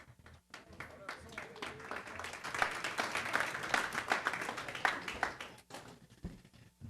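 Applause from the audience at a school district board meeting, clapping swelling to a steady crowd round in the middle and then tapering off, with voices talking at the start and end.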